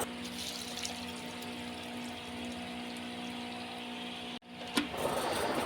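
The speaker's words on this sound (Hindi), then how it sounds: "और तकरीबन 1 लीटर पानी शामिल करेंगे इसमें।" Roughly a litre of water poured into a blender jar holding grapes, sugar and black salt, a steady rushing liquid flow for several seconds that cuts off abruptly, followed by a faint splash and settling water.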